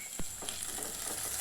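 Two medium chopped tomatoes frying in oil in a pan for a North-style ridge gourd gravy, giving a steady soft sizzle with a brief clink near the start, fairly quiet and with no talking.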